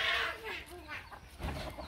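Chickens in a rural farmyard cluck and squawk close by, a quick run of busy calls over soft ambient noise.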